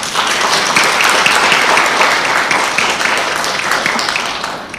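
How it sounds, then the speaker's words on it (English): Sustained applause fills a board of education meeting, many hands clapping steadily and fairly loud throughout, tapering slightly at the end. "How about a round of applause?"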